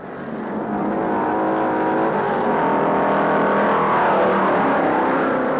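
Stock cars roar together in a 500-mile race, a dense sustained engine drone swelling in after a moment and holding loud and steady, with no voices.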